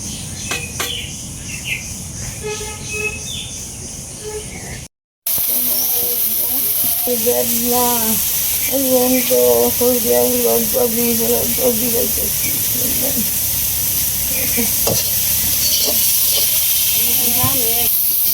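Overheated cooking oil sizzles in a pan with a steady, broad hiss that runs throughout, broken by a brief dropout, while chirpy voices and background sounds come and go over it.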